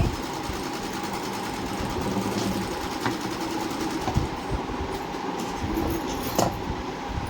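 A sewing machine runs steadily, stitching a blouse lining, with a dense continuous mechanical whir and rattle that holds close and even throughout, with a few faint clicks over it.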